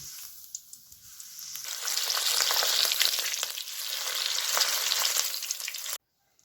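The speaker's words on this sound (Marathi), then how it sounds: "लसूण असं तळून घेऊया चटणीसाठी" Garlic drops into hot oil and a loud, crackling sizzle swells up and holds steady for several seconds, then cuts off abruptly.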